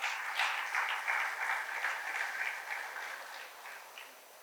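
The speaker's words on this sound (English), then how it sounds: "I think we should all clap for the sponsors" Audience clapping for the sponsors, a steady wash of applause from a crowd that slowly thins and fades toward the end, with no talking.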